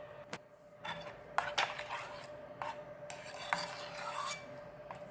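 Yogurt raita with cumin and salt is stirred steadily, producing quiet wet scraping and frequent light clinks against the bowl, close by with no talking.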